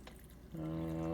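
About half a cup of water pours into a container for a pickled onion brine, a brief near splash that settles into a rising filling tone, quiet and with no talk over it.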